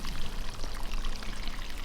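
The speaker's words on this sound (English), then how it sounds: "putting it at fairly low pressure exactly where the water's needed" A watering can gently pours water at low pressure onto potted plants, producing a steady, close splashing stream that runs continuously and fairly loudly with no talking.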